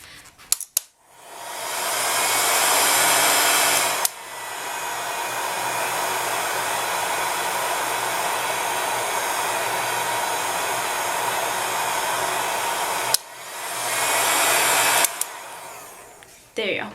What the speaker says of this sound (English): So now we are going to heat gun it again.